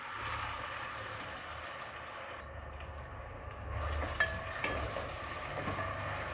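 Chopped onions fry in oil with whole cumin seeds, a steady soft sizzle and hiss that swells slightly partway through, with no talking over it.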